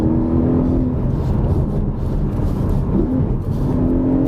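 Porsche 718 Cayman GTS with a 4.0-litre engine under way in sport mode, a steady low engine drone inside the cabin with brief changes in pitch as the revs shift, no talk.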